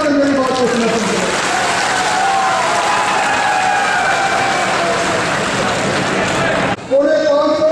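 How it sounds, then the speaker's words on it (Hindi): Loud crowd applause at a political rally for a chief minister in Churu, sustained clapping and cheering over a voice, with a brief break near the end before it resumes. "सिर्फ जोरदार ताली बजाकर मेरी बात को समर्थन करें"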